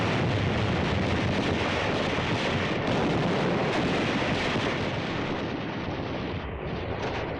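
Battle at Tarawa: continuous heavy blasts and rumbling gunfire, mortar and flamethrower bursts merging into a dense, loud, unbroken roar of explosions with no speech on top.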